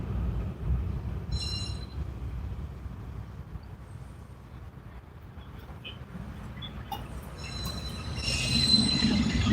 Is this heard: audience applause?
no